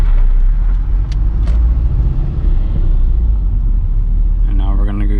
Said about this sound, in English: We're gonna test this at 2500 RPM launch control.